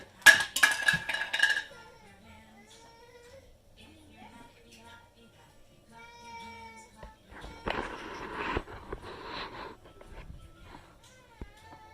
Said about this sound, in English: Get out my griddle now.